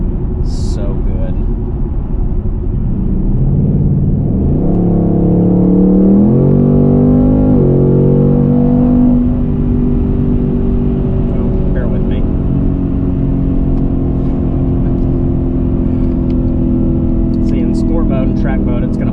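A 2021 Ford Mustang Mach 1 engine pulls hard under acceleration, its rising tone sweeping upward through gear changes and then settling into a steady drone, heard from inside the car with talk over parts of it.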